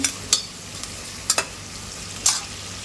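Onions fry with salt in a pan for white mutton pulao, a low steady sizzle punctuated by four or five short, sharp stirring scrapes close by.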